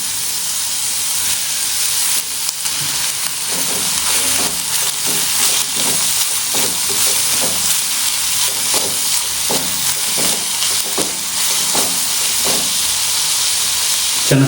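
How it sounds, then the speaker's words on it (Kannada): Chopped onion and capsicum frying in a pan with garlic hiss loudly and steadily, while a spoon stirs and scrapes in repeated rhythmic strokes throughout, with no voices. "ಚೆನ್ನಾಗಿ ಫ್ರೈ ಮಾಡ್ಕೊಳ್ಳಿ ಇದನ್ನು."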